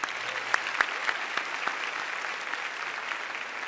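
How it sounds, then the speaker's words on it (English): Audience applause at a spring college graduation ceremony: a steady wash of many hands clapping, fairly distant and even, with a few louder individual claps standing out near the start before it holds at a constant level. "Let's give him one more round of applause."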